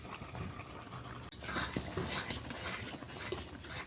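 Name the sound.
stirring mango paneer sandesh mixture in a pan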